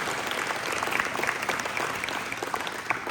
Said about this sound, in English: can we just do one more round of applause for our volunteers?